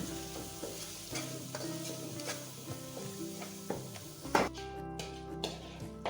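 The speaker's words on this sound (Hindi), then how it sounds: "अब ये मैं मसाला बना के उसको इसमें डालूँगी भून" Masala for a fish korma frying in a pan while being stirred, a steady close sizzle under repeated scraping strokes of the spoon, with a few sharper knocks near the end.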